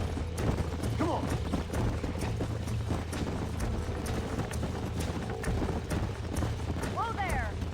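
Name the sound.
galloping horses in video game Red Dead Redemption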